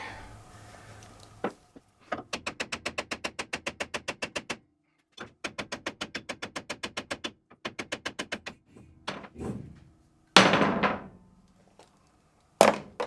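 A tool chips away at metal inside a 14 bolt rear end in rapid bursts of sharp, evenly spaced hammering blows, loud and close, with a few heavier single thunks between the runs.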